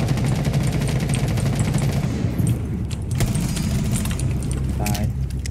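Heavy gunfire in the video game Rainbow Six Siege: dense, rapid automatic bursts that run almost without a break, loud and close over a low, steady rumble.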